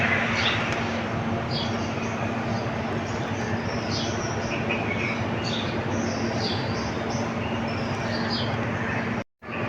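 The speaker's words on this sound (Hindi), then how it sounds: "चिड़िया की चहचहाने की आवाज़ें आ रही हैं।" Small birds chirp and tweet in scattered high calls outdoors from a terrace, moderately distant, over a steady hum and breezy background noise; someone talks faintly at times.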